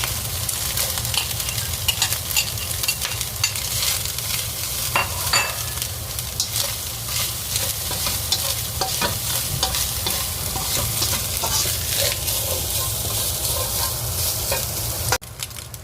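Sausage stir-fries in a hot pan, with a loud, continuous sizzle and constant scraping and stirring. It is close-up and runs without any voices.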